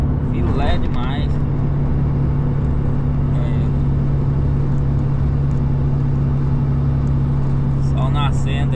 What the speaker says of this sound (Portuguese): O caminhão anda filé demais.